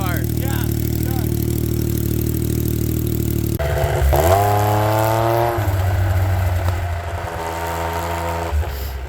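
A Yamaha triple-cylinder engine fitted in a Polaris RZR XP idles steadily, then revs hard and settles back, loud and close, with people talking over it.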